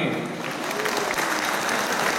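Dense, steady audience applause fills a political victory celebration, a continuous wash of many hands clapping close and loud for the whole stretch.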